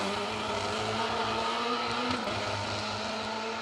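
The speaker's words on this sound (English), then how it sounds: "Got a bit of a misfire going on in that Mark II." A damaged Mark II rally car's engine sputters and rumbles unevenly at a moderate distance during a stage of the 2024 Malcolm Wilson Rally, the rough, stumbling tone of a misfire.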